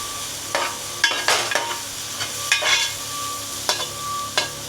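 Onions and tamarind leaves stirring and frying in a pan at home, with intermittent scraping stir strokes over a soft continuous sizzle, close and moderately loud.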